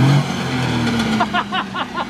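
A broken race car with a failing rear differential drives along, engine droning loud and close while a rough grinding rattle pulses through it, with voices talking over it.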